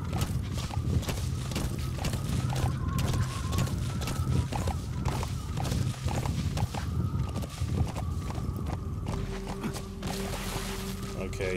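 A horse gallops in Metal Gear Solid 5, its hooves landing in a steady, rapid clip-clop rhythm over continuous background game sound, and close by throughout.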